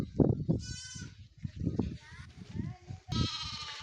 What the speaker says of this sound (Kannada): ಕುರಿಮರಿ, ಆಡುಮರಿ ತುಂಬ ಸಕ್ಕದಾಗ ಸೌಂಡ್ ಮಾಡ್ತೈತೆ ಕುರಿಮರಿ